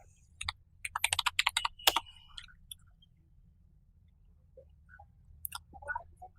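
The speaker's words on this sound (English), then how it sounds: "I will type the command show payloads" Keys clatter on a computer keyboard as a command is typed, a quick burst of crisp clicks around the one-to-two-second mark followed by a few scattered taps, close and clear over a low background hum.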